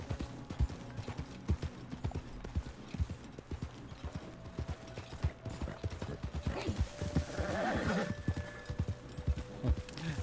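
A horse's hooves clip-clop steadily over rocky ground in Red Dead Redemption 2, with a rapid, even rhythm running the whole way and a brief whinny-like sound and tone rising near the end.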